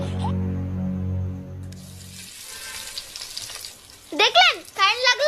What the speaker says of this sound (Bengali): নিন এবার ডিমটা ঢালুন।